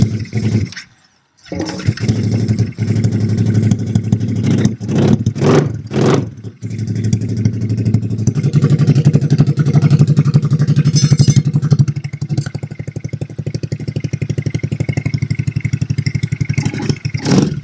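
A restored motorcycle engine revs loudly and continuously for most of the clip, with a short drop to near silence early on and sharp throttle blips before settling into a steady, strong running roar.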